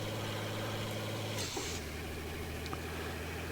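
Diesel I6 truck engine in a driving video game labouring up a mountain road, a steady low throbbing drone that drops in pitch mid-way as a gear changes, then keeps pulling evenly.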